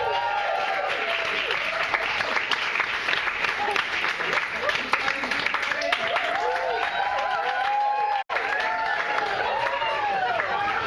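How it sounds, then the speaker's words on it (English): A large stage-show audience cheers and applauds continuously, a dense wash of clapping with whoops and shouted voices, loud and close, with a brief cut to silence near the end before the noise resumes. "Give us a cheer."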